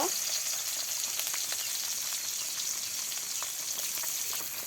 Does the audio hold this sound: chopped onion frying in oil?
yes